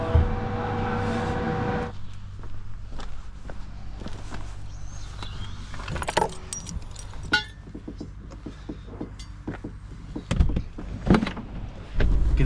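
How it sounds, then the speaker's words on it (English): Inside a Land Rover Defender, a loose, unsecured spare wheel thuds and knocks in the back, giving irregular bumps and rattles over engine hum, with scattered clunks growing heavier toward the end. "You can hear the wheel bouncing around in the back."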